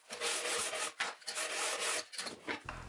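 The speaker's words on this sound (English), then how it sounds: "I start by scraping and sanding the edges, going through grits, ending up with 150 grit for this stage." Wood edges are scraped and hand-sanded through grits up to 150, a close, rough rasping in long back-and-forth strokes with brief breaks between passes, fairly loud and with no talking.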